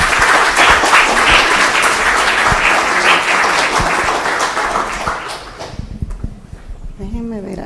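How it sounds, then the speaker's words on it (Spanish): An audience applauds a speaker at a university law school event: loud, dense clapping for about five seconds then fades out, leaving scattered knocks and a brief voice. "Recibámoslas con un fuerte aplauso."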